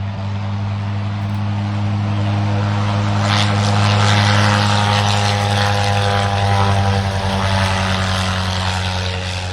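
A 1918 Fokker D.VIII WWI fighter at the Rhinebeck aerodrome runs its engine up to about 1,300 RPM, a loud steady droning roar with a strong pulsing hum that swells and holds as it powers toward takeoff.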